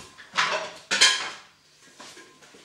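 A metal soup pot clanks down twice onto a heater, short clattering knocks close by, then quiet.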